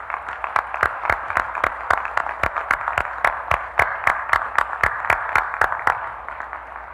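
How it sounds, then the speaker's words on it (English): An audience at a 2018 commencement ceremony claps in a steady run of crisp, closely spaced claps over a soft crowd murmur, continuing evenly throughout. "Please applaud."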